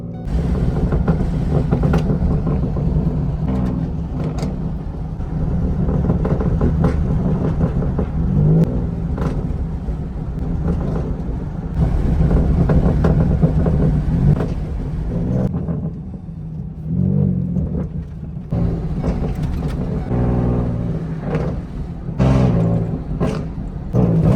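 A tuned Ford F150 pickup's exhaust rumbles deep and loud while scattered sharp backfire pops and crackles break through at irregular moments, close to the truck, with no talking.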